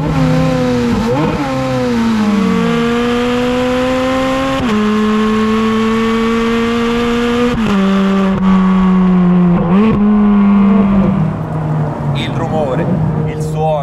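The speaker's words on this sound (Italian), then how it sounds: "Ferrari deve avere questo rumore, e avevano ragione" A high-revving Ferrari 430 Scuderia engine drones loudly and continuously, its pitch rising and falling through several gear changes.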